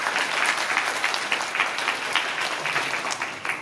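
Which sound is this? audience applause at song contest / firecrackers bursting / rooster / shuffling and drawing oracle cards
audience applause at song contest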